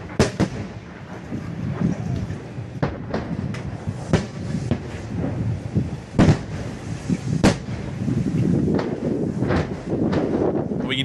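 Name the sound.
explosions hitting a bridge in the distance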